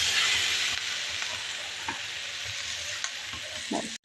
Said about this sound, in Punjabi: ਲਓ ਜੀ ਮਸਾਲਾ ਭੁੰਨ ਚੁੱਕਿਆ